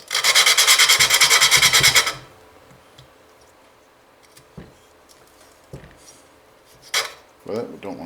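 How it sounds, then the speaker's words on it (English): Lapping an intake valve by hand with grinding compound on a 3.5 HP Briggs & Stratton lawn mower engine, a close rapid back-and-forth gritty rasping burst for about two seconds, then quiet with scattered small clicks and handling noises. "I went ahead and lapped the intake."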